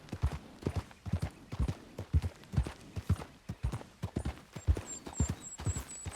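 Horse hooves in the video game Red Dead Redemption: a steady, rhythmic clip-clop of a galloping or cantering horse, close and clear throughout, with faint high chirps joining near the end.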